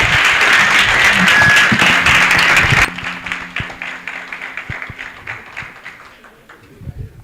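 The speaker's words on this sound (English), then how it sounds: "Ladies and gentlemen, please give a warm round of applause to" A meet-and-greet audience breaks into dense, loud applause for about three seconds, then thins to scattered individual claps that taper off, with a low steady tone running underneath.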